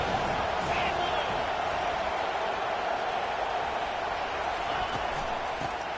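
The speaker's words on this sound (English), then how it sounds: "Here comes 2nd down, and this crowd is turning it up a notch." Stadium crowd roaring steadily in College Football 25 during a Rutgers game, a dense continuous wash of cheering that holds at an even level from start to finish with no clear breaks or peaks.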